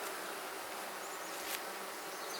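Honey bees buzz steadily close to a hive, a dense continuous hum that fills the whole stretch with no voices over it.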